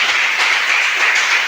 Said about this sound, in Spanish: Dale un aplauso a Jesucristo.